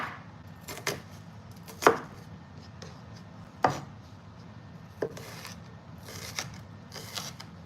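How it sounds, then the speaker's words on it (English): A few irregular knife chops through half an onion on a cutting board, close and fairly soft, with quiet pauses between strokes. "we're just chopping up half an onion for our meatballs"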